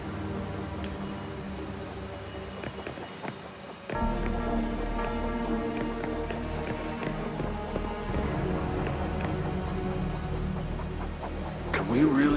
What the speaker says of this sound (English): Something's wrong with this rain.